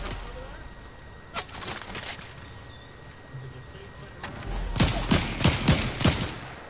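Gunfire sounds as separate sharp shots early on, then a quick cluster of closer, louder reports near the end over a low background rumble.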